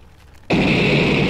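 A sudden explosion in a video game during a minecart ride, bursting in abruptly after a quiet moment and sustaining as a loud, dense roar, with no voices.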